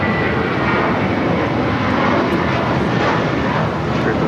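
Spirit Airlines Airbus A320 taking off from LAX bound for Louisville, a loud, steady broadband engine roar that holds constant throughout, close and continuous, with no talk over it.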